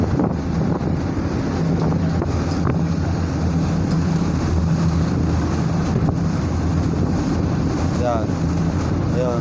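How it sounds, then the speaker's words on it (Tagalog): Strong wind buffets the microphone on a boat at sea bound for Cebu during a storm, a constant roaring rush mixed with water and engine noise, with faint voices beneath. "Lakas yung hangin."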